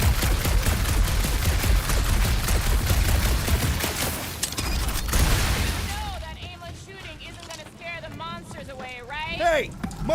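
Rapid gunfire bursts from Marvel's Guardians of the Galaxy video game fill the first half, loud and continuous with booms, then give way to in-game chatter and effects.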